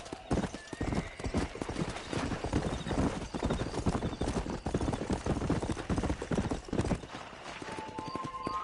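Horse hooves in Red Dead Redemption beat a rapid, steady galloping clip-clop, close and loud throughout, with a brief whinny and faint background game sounds.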